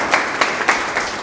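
Brief burst of audience clapping during a university lecture, a few quick, evenly spaced rounds of hand claps from a small group in a room.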